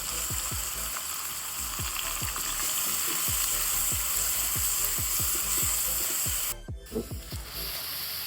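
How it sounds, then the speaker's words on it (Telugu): Onions frying in hot oil with popping mustard seeds and cumin, a steady loud sizzle broken by regular sharp crackles and pops, with a brief clatter near the end. "నూనె వేడెక్కాక ఆవాలు జీలకర్ర వేసుకొని అవి చిట్టపట్టలాడినాక ఆనియన్స్ వేసుకోవాలి"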